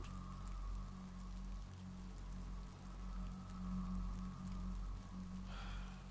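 Rain falls in the video game Undead Citadel as a quiet, steady patter over a low droning hum, continuous and unbroken with no voices.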